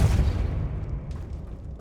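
Confringo blasting spell explosion in Hogwarts Legacy, a single loud deep boom at the start that rumbles and slowly fades, followed by faint scattered debris clicks.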